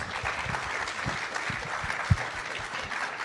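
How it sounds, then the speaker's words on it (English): Applause from an evening event audience thanking an expert panel on the hurricane season, a fairly quiet, steady patter of clapping with one louder thump partway through. "please, can we give them some applause?"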